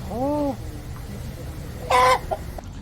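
Chickens and a rooster cluck close by: one drawn-out call at the start, then a sharper squawk a moment later over quiet farmyard background.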